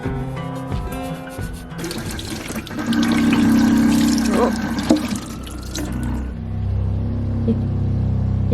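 A water pump aboard a sailboat in winter, running as a steady mechanical hum and whine through the middle, with splashy water sounds and clatter before it, moderately loud and close.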